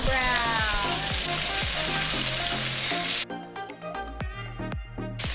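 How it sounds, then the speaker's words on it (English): Chicken thighs fry loudly in a pan with a dense, steady sizzle and occasional scraping stirs; the hiss drops sharply partway through as the pieces are turned, then carries on more softly. "we're gonna just turn it over and cook it for another 6 minutes"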